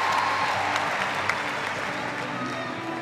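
Steady applause from a large arena crowd during a women's gymnastics balance beam final routine, a continuous broad wash of clapping with no pauses.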